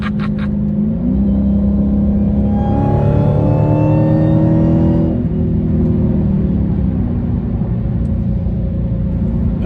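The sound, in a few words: Hellcat-powered car engine revving to the rev limiter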